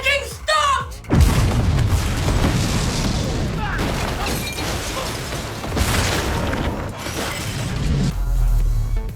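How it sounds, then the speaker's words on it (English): A bomb explodes during a disposal attempt just after its ticking stops: a sudden loud boom lands after a brief lead-in, followed by long, rumbling, crackling debris noise that stays dense and heavy for several seconds. "The powerful explosion blanketed the entire area in thick smoke."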